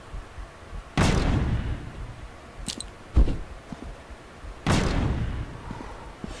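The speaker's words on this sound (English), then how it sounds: "Alright, I threw a grenade near it." A grenade explosion in the video game Ramses Rise of Empire comes as two heavy, booming bursts with rumbling tails, separated by a few smaller thuds and a sharp impact, all moderately loud.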